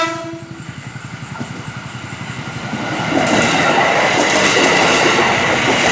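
A KRL JR 205 series electric commuter train rolls into a station at night, its wheels clicking rhythmically over rail joints as it draws closer, and the rumble swells loud and broad partway through.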